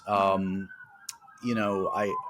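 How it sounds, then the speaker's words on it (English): Emergency vehicle sirens wail on a New York street, a rising and falling tone sweeping beneath a person speaking close by. "sorry for the sirens in New York."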